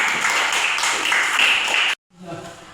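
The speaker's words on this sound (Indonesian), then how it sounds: "Ya, tepuk tangan." Students clapping together in a classroom, a dense burst of applause lasting about two seconds that stops abruptly, followed by quieter murmuring voices.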